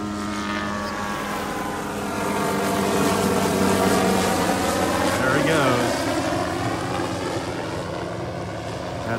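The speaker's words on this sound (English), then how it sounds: "One of our helicopters that sprays for mosquitoes. They're just above the treetops. Pretty noisy." A mosquito-spraying helicopter's loud, droning rotor and engine noise passes just above the treetops over a beach in North Naples, Florida, swelling and steady throughout.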